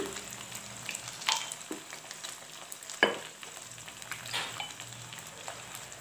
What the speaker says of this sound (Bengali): তো চাউমিন বানাবো তো তিন ডিমটাকে আমি আগে ফার্স্টে ভালো করে ভেজে নিই